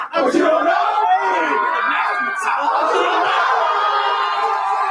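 A battle rap crowd roars and chants along in unison, a loud, dense mass of voices shouting rhythmic lines and whooping, sustained throughout.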